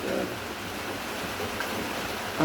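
Heavy rain pours down in a dense, steady hiss, close and continuous, with no break or voice.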